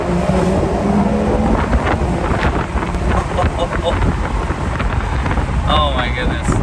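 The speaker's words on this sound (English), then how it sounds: "You can definitely hear the turbo noises, which I like a lot." A 2022 Porsche 911 GTS accelerates hard on a highway, its engine and turbo roaring loud and steady throughout, mixed with heavy wind and road rush.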